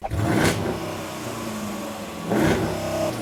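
A Dodge Durango R/T engine and exhaust run close by, a deep rumbling idle swelling into two brief revs, alone with no talk.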